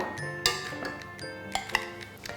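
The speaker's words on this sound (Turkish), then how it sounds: "Şimdi her şey birleşene kadar tekrar çırpıyorum." Nutella and eggs whisked in a bowl for cookie dough, heard as a series of irregular bright clinks and taps of the whisk against the bowl, close and moderately loud, with no talking.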